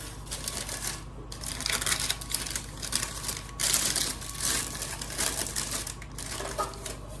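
Parchment paper being crinkled and pressed into a baking sheet while lining it for a lemon pound cake, rapid dry rustling and crackling bursts that come and go over several seconds, fairly close.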